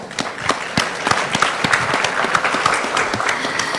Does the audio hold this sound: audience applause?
yes